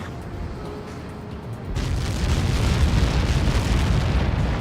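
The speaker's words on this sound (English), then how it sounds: "How many got caught in that explosion?" A missile strike in the Ace Combat 7 video game erupts into a heavy, sustained explosion, a sudden loud surge of deep rumbling roar that follows a quieter low drone and keeps rolling.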